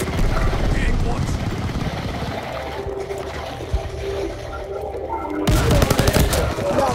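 Dense Call of Duty Vanguard battle gunfire, steady overlapping shots and rumble under a constant roar, swelling louder at the end, with a voice talking over it.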